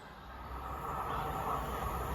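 An Avanti West Coast Class 390 electric train departing Kidsgrove for Manchester Piccadilly gives a steady, fairly faint rumble and hiss that holds level throughout, heard from a distance with no talk.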